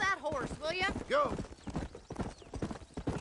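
Horse hooves clip-clop through Red Dead Redemption gameplay, a steady rhythmic trot mixed under loud spoken dialogue and a horse whinny near the start.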